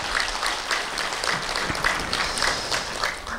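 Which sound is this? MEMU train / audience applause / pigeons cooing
audience applause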